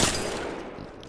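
A short burst of automatic rifle fire from an R-301 in Apex Legends erupts loud and close, then trails off into a brief echoing tail.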